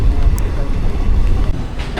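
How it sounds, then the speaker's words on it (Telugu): A train from Siddipet to Secunderabad rumbles along the rails with a low, continuous roar heard from inside a carriage, loud and steady, with faint background noise. "మన ట్రైన్ అయితే నడుస్తుంది"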